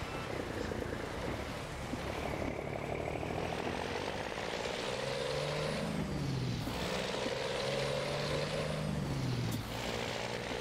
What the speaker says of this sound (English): What the fuck are you doing, truck?